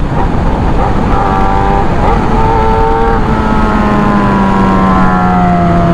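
A loud Yamaha YZF-R6 exhaust roars steadily while riding, its engine pitch rising and shifting through gears, close and dominant throughout.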